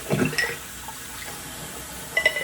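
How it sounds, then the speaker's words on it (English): Water runs briefly as a razor is rinsed during a shave, with short splashy bursts at the start and end and a quiet stretch between them. "Let's rinse off here."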